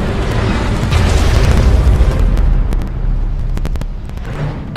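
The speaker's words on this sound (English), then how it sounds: "Nuclear missile launched." A nuclear missile explodes in an Android video game, a loud, sustained rumbling blast with crackling bursts that slowly fades over several seconds.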